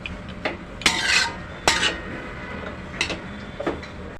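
A spoon scrapes and clanks against a pan while fried rice with spices and peanuts is stirred, with sharp metallic strikes at irregular moments amid softer scraping, fairly close and without talk.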